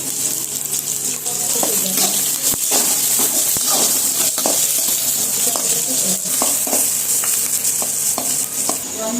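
Onions fry in a pan for chicken curry, browning to a deep red-brown; a continuous sizzle runs throughout, with scattered clicks and scrapes of stirring.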